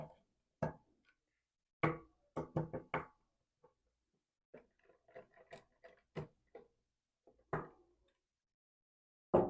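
Hex screws being loosened with a 1/8 hex key on the lower receiver of a Ruger Precision Rimfire rifle, heard as a series of sharp, close clicks and knocks in small irregular clusters with quiet gaps between them.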